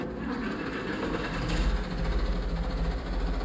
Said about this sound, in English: An old John Deere diesel fired up, no problem.